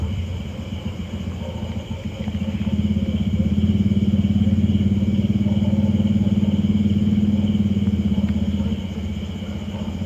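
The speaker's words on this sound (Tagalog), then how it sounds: "May motor." A motorcycle passes at night, a low engine rumble building over a few seconds, holding steady and loud, then easing slightly as it moves on.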